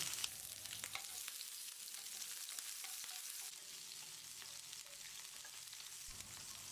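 Steady, close sizzle of spices, sliced green chillies and chopped garlic frying in hot oil, with occasional scraping and clicking of a spoon stirring the pan throughout.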